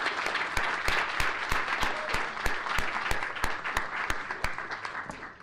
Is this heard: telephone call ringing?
no